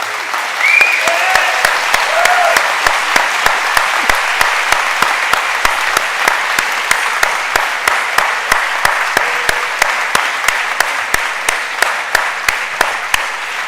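Sustained applause from a conference audience for an award recipient at an opening ceremony: dense, even clapping with a few sharp individual claps standing out, loud and continuous from start to finish.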